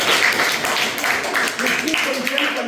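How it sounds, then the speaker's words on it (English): An audience at an Urdu high school claps for students, a loud, sustained burst of many hands in irregular rhythm with a few voices faintly mixed in. "Clap for them"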